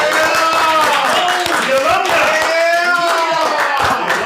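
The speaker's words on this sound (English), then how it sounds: "Everybody start clapping right now." A group of people claps steadily and rhythmically while someone talks and sings loudly over them, the claps often half buried under the voice.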